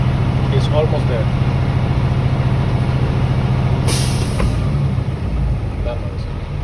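A truck engine idles loudly and steadily, then a sudden short burst of hissing air cuts through as the air brake governor releases pressure at around 125 psi.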